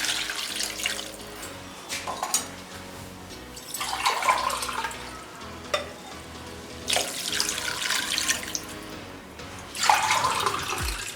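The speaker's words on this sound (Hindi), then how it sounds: "अब इसमें 4 गिलास पानी ऐड करेंगे।" Water from a glass is poured into a cooking pot holding chicken, a whole onion and garlic, in four separate splashing pours with short pauses between them.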